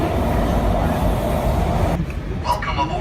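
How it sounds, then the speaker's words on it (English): Heavy rumble of a metro train in motion, loud and continuous, with people's voices faintly mixed in; the noise thins out near the end. "We're going on our second train back home."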